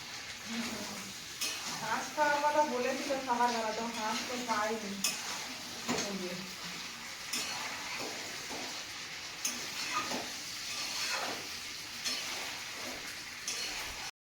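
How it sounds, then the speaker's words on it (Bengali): Poultry meat braising in a pot crackles and sizzles steadily while a spoon stirs and clinks against the metal, with someone talking over the cooking from close by. "তো মাংস থেকে চটপট শব্দ হচ্ছে"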